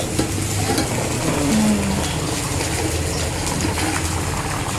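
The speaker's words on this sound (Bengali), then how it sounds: "অল্প তেলে ভাজছি, এটা ভেন্ডি ভাজা" Okra frying in a little oil in a pan, a steady close sizzle with faint stirring throughout, no talking.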